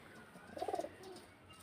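A pigeon gives a short, soft burst of rolling coos near the middle, low and throaty, with quiet background noise before and after.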